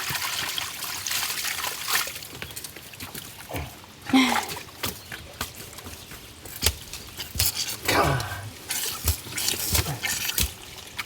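Water bursting from a pressurized pipe on a DIY gravity-fed system, irregular splashing and spraying bursts with dribbling and patter between them, close and uneven, with occasional movement noises.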